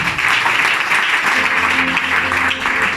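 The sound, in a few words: congregation applauding the word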